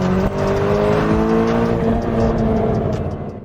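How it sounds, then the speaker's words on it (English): Tuned Volkswagen Polo R engine revs up under acceleration, a loud, close, continuous drone rising steadily in pitch before easing off at the end. "By the way, now we are accelerating."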